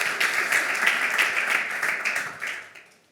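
An audience at a green startup slam pitch event breaks into applause, a dense, steady patter of many hands clapping nearby, holding for a few seconds before fading out.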